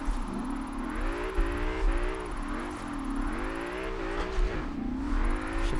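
A race car engine in Forza Horizon 4 drones loudly and close, its pitch climbing, dropping at each gear shift and climbing again in repeated cycles.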